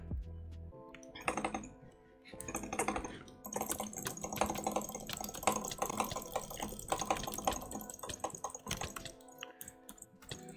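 W and S keys tapped on a computer keyboard during a Minecraft game, with quick irregular clicks close by over a busy background of game sounds.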